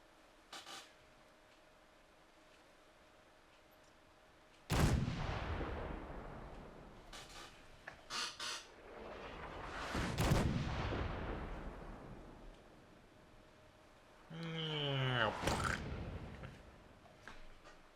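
Artillery shells land in the video game Fallout 4: three heavy, booming impacts arrive several seconds apart, each rolling off in a long rumbling decay, with a few smaller sharp cracks between them and no talk.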